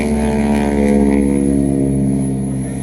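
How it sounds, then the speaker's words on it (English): North American Harvard aircraft flying a display at an air show, its propeller tips going transonic in a loud, harsh, rasping drone with a strong buzzing tone that holds steady throughout. "It is actually the sound of the propeller tips going transonic."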